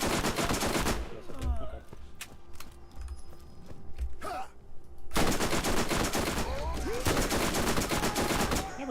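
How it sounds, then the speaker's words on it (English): Submachine gun fire in the shooter Borderlands 4, loud, dense rapid bursts packed together across most of the stretch, broken by a short lull of quieter game noise in the middle before another sustained volley. "Never thought I'd be using a fucking SMG on Brick."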